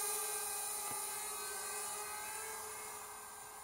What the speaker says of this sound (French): je suis en vitesse maximale hein, avec notre Cicada, hein, puisque ce drone est très très lent